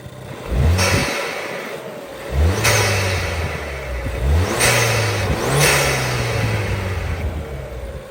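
A modified stage 2 MK7 Ford Fiesta ST engine revs hard several times, each rising and dropping back with a throaty roar, loud and close with brief pauses between bursts.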